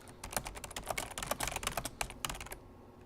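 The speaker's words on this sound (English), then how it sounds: "as soon as I start typing, it stops" Fingers type quickly on a computer keyboard, a close, quiet stream of irregular key clicks with a short pause near the end, and no one speaks.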